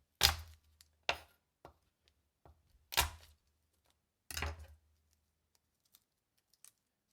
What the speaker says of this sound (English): And then for the garlic, just crush it.